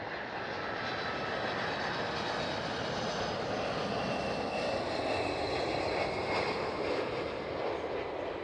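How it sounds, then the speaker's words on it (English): Delta Airlines Airbus A330 engines roar steadily at Schiphol, a broad continuous rumble holding at a constant loud level throughout with no voices. "It's the Delta Airlines A330."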